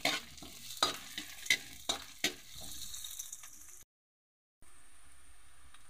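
Chili sizzles in a pan of ginataang tahong, a steady hiss punctuated by several sharp utensil clacks, then a brief total dropout before a quieter hiss resumes.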